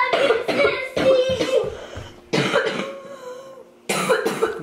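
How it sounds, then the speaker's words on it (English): A person coughs in several harsh, rasping bursts separated by short pauses, close and loud, with no talking in between. "Probably from coughing like that."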